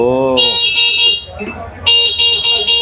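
Electric vehicle from Eco Motors switched on by remote, giving bright electronic beeps in a short burst, a pause and then a longer series, loud and close, with brief talk mixed in.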